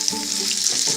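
Leftover risotto fries until crispy in a pan, with a steady, close, bright sizzle and faint crackle throughout.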